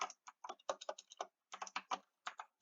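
Quick bursts of typing on a computer keyboard, clustered keystrokes in short uneven runs with brief pauses between, close and crisp against silence.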